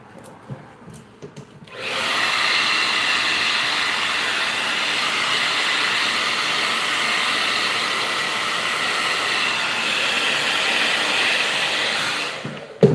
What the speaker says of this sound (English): I like to have the dryer on as hot as I can.